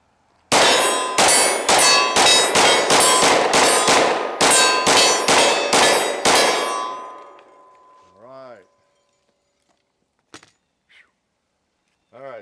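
A steel tombstone target rings out with about eleven sharp, evenly spaced clangs as Glock 20 10mm rounds strike it, each hit leaving a long metallic ring, then someone speaks briefly.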